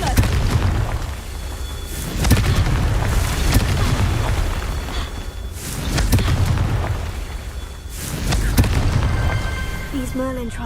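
Confringo blasting spells explode in Hogwarts Legacy, heavy booming blasts roughly every two seconds that roll into long rumbling tails, loud and continuous, with a short voice near the end.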